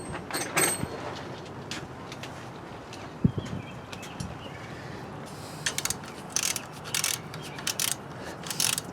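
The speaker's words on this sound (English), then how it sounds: "And I got a torque wrench here." Ratchet clicks from a torque wrench with an extension tightening head bolts on a seized Kohler Courage engine of a Craftsman LT2000 mower, heard as short bursts of close metallic clicking separated by quieter pauses.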